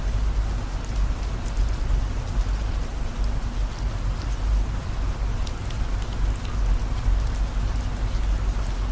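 Steady rain pours down in a continuous broadband hiss with a deep low rumble of a car driving beneath it, close and constant throughout with no voices.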